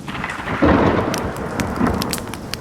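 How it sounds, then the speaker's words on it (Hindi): Thunder rumbles and cracks during a rainstorm, a broad rolling boom over steady hiss of rain with sharp droplet ticks, no voices. "दूर कहीं बिजली कड़की"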